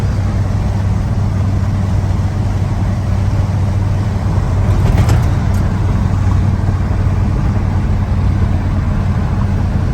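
A 1977 Ford F350 tow truck cruising at 60 mph, heard as a steady, loud droning rumble of engine and road noise with wind roar, unchanging across the whole stretch.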